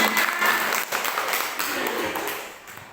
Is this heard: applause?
yes